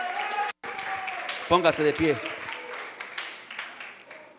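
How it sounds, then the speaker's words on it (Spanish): A church congregation claps under a voice speaking over the room, the applause moderate and continuous beneath his words. "Den una alabanza de aplauso a Jesucristo."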